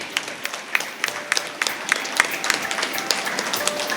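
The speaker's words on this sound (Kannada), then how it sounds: "ಜೋರಾದ ಚಪ್ಪಾಳೆಯನ್ನು ಕೊಡೋಣ ಪ್ರಿಯರೇ" An audience at the inauguration of an MCC Bank branch and ATM in Deralakatte applauds, a steady, dense patter of many hands clapping throughout.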